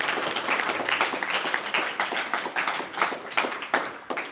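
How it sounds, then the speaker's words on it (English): A seminar audience at a Bhakti spiritual gathering breaks into a dense, steady round of applause, many hands clapping together at full loudness for the whole stretch with no voices over it. "Give Abhay a round of applause, please."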